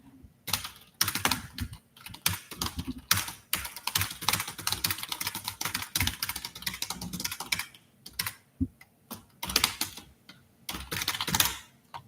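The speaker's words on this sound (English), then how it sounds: "There's some more keyboard ASMR for you." Rapid computer keyboard typing, close and crisp, in dense bursts of keystrokes with brief pauses, running for about twelve seconds with no talking.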